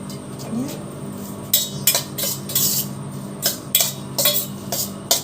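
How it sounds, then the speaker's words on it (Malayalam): A metal spoon stirs salt into curry in a pot, giving a run of irregular clinks and scrapes against the vessel over low background noise. "ഉപ്പിട്ടിട്ട് ഇളക്കി വയ്ക്കുക"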